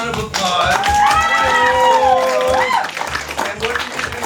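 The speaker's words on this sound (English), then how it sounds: "Everybody give Reba a round of applause." An audience claps and cheers at a stage magic show as a volunteer steps up. Applause swells steadily for about three seconds, with high whooping voices riding over it, then thins out.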